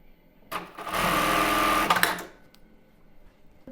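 A sewing machine stitching an embroidered tulle bra runs in one continuous burst of about a second and a half, close and loud, with a whirring motor and rapid needle clatter, then stops with a few soft clicks.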